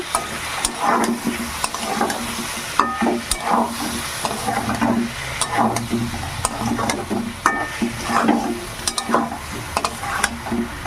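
Potatoes and pointed gourd stir-fried with a ginger, cumin, garlic and onion paste sizzle steadily as a spatula scrapes and stirs the pan in repeated strokes, near and clear.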